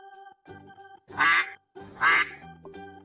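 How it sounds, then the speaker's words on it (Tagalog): A duck quacks twice, loud and close, in two short bursts about a second apart, over a steady musical backing in a children's reading lesson. "Yellow duck, what do you see?"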